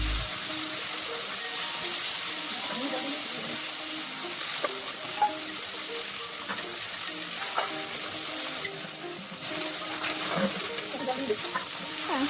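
Ginger and spice paste fry in hot oil in a pan, with a steady close sizzle and occasional scrapes and clinks of stirring, no voices.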